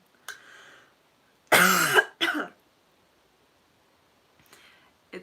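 Several coughs and a throat clear indoors, a short cough followed by a louder double cough, close to the mic in an otherwise quiet room with faint rustling afterwards.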